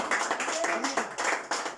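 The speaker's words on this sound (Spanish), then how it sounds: "un aplauso poderoso para nuestro Señor" A church congregation claps in a brief, rhythmic burst of hands under the worship service, moderately close, with a voice faintly audible.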